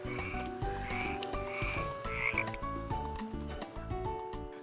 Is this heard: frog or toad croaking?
yes